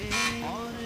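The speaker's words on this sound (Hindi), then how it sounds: "बज़र चेक कर लें आप।" A quiz show buzzer sounds once during a test on a Ramzan special game show, a short loud tone that rises and then fades, with an electronic warble following it.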